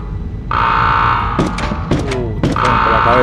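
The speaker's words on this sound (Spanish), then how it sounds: "Te pongo por la cabeza la alarma esa." A steady electronic alarm tone blares in the PS1 video game Medal of Honor, loud and continuous, briefly interrupted by other in-game sounds and chatter-like bursts before the tone resumes.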